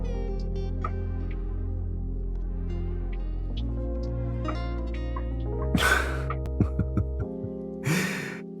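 Character sniffing in a romance video game, a few quick breathy sniffs and snorts heard close and clear over a sustained musical backdrop.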